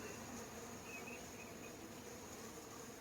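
Honeybees buzz in a steady, faint drone while a bee package is installed into a hive, a continuous hum with no talk over it.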